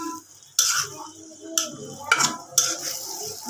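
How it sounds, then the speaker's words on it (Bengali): Onions and green chilies fried in oil while a utensil scrapes and stirs the pan in several sharp strokes, with a faint sizzle underneath and a quiet voice in the background. "পেঁয়াজ, কাঁচামরিচ, তেলে ভেজে নিই"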